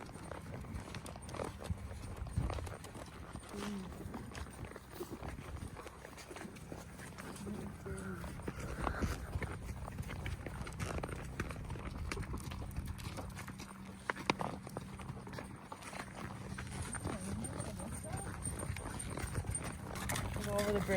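A ridden horse named Rooster walks around fairgrounds, its hooves clip-clopping in a steady rhythm at moderate distance, with people talking over the footfalls.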